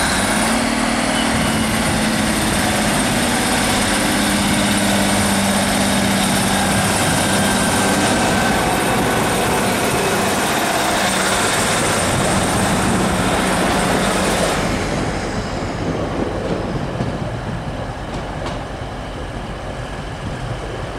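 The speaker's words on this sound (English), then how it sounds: "Here's a Trans-Pennine arriving late." Trans-Pennine train pulling into a seaside station at Cleethorpes, a loud, steady broadband rumble and wheel roar close by that eases off after about fifteen seconds.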